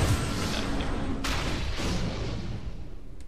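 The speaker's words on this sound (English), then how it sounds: "Just random explosion in the background" A background explosion in the co-op video game Defiance sounds as a broad rumbling boom over a steady noisy game backdrop, followed by a sharper crack, moderately loud and without talk.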